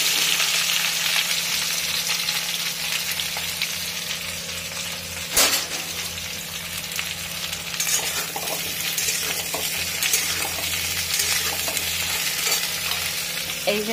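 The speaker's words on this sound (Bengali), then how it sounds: "এই যে ভেন্ডিগুলো ভেজে নিই" Okra frying in a pan of hot oil gives a constant, dense sizzle up close, with one sharp clatter of utensil against pan midway and lighter stirring scrapes afterward.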